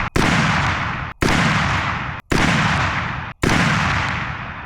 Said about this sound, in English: Let's shoot a third group.